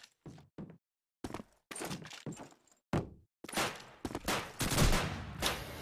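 Rapid bursts of gunfire and shotgun blasts in Call of Duty 2 during a competitive match, coming in short separate clusters and then a denser, louder run of shots toward the end, with no voices.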